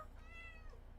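A cat meows indoors, a single drawn-out, rising and falling call that stands out clearly over a low hum, with no talking.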